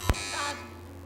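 A quiz show contestant's buzzer goes off on a televised Iftar quiz programme: one sharp, loud electronic buzz with a harsh edge, fading quickly into quiet studio room tone.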